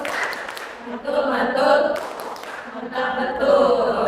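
A midwifery class gives Syifa the 'tepuk mantul' clap: a group chants while clapping in a rhythmic pattern, with several sharp clap bursts spread through the voices.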